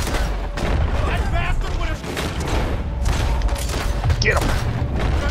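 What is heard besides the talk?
gunshots in video game Red Dead Redemption 2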